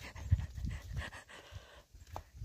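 A dog pants close by in quick rhythmic breaths, soft huffs repeating over a couple of seconds with no talking.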